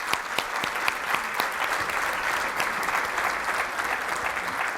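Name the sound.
audience applause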